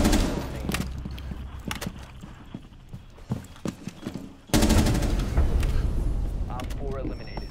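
Rapid gunfire bursts in the Rainbow Six Siege video game, sharp repeated cracks scattered through the first half, then a loud dense stretch of shooting and impacts, with a player's voice talking over it.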